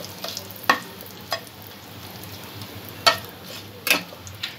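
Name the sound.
tempering spices with asafoetida lightly frying in a pan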